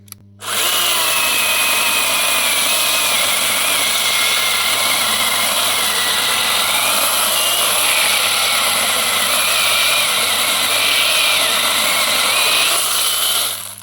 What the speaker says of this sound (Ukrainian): спробуємо трошечки навантажити пилу. Подивимося, як вона буде різати